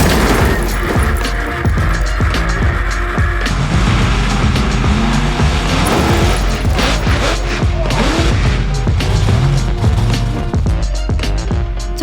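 A home-built monster truck made from lorry and digger parts crushing cars: a loud, continuous engine roar with repeated heavy crunching and banging impacts, close and dominant throughout.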